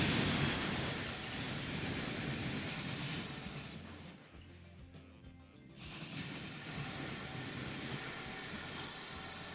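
Trains running in the video game Transport Fever 2, set on 1840s lines, a continuous rumbling rail roar with squealing wheels, easing briefly in the middle before building again, steady and fairly loud with no talk.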